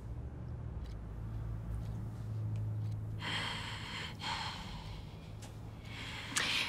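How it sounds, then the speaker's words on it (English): Slow, audible breaths taken during a deep breathing exercise, a soft low exhale followed by louder breathy inhales and exhales up close, with no talking. "Give me a couple of deep breaths."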